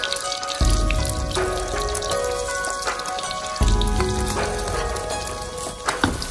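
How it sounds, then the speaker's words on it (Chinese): Eggs stir-frying in a hot wok for pepper and egg, nudged with a spatula until they set; a steady crackling sizzle with louder bursts as the spatula stirs and turns them. "让鸡蛋炒至凝固。"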